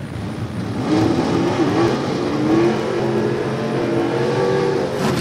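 A gasser drag racing car in the A-Gas class at a Southeast Gassers event in London, Kentucky, roars as it accelerates down the strip. The loud engine drone climbs steadily in pitch over several seconds, close and continuous.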